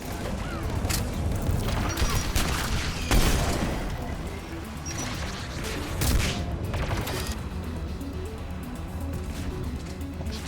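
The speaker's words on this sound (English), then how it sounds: "Mounted turret." Mounted turret gunfire in the Mass Effect 3 video game, sustained bursts of rapid fire with a few heavier booming impacts, dense and mechanical throughout.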